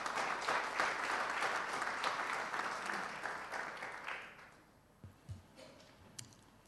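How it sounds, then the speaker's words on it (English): Sustained applause from a conference audience at a landscape sustainability forum, steady and full for about four seconds, then thinning out and fading to a few scattered claps and room noise. "We let enough time for the applause for this beautiful presentation"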